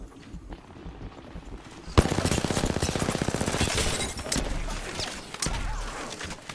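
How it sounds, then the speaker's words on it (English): Gunfire in a video game: after a quiet start, a sudden loud burst of rapid automatic shots rattles on for several seconds, followed by a few scattered cracks. "I shot a gun"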